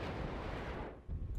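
Artillery fire in the war strategy game Wargame: European Escalation, a short, muffled, low booming blast that rumbles and fades, then a second thud follows at the end.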